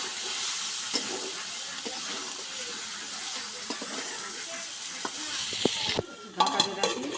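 Sliced ridge gourd and potato sizzle in a hot pan, a steady frying hiss broken by scattered stirring scrapes, with clattering utensil sounds near the end; no talking.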